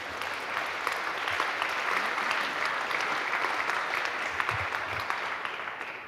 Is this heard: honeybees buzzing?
no